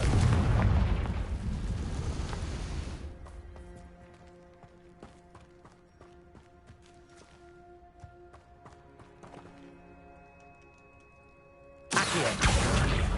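In a wizarding video game, a Confringo spell sets off a loud, rumbling explosion that fades into a ringing decay with light tinkling debris, and a second sudden blast hits near the end.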